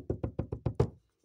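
Six quick knocks on a door at an even pace, close and distinct, the last one a bit louder, with no talk.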